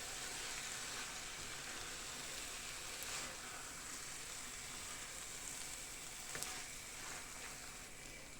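Stewed cabbage in a sour cream sauce being stirred in a pan, giving a steady, soft sizzling hiss throughout with a couple of faint scrapes.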